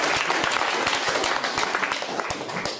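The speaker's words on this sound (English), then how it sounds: "Can we have one last round of applause for everyone who stepped up?" A closing round of applause at a sustainability community event, many hands clapping together in a loud, continuous burst that holds steady for a few seconds without talk.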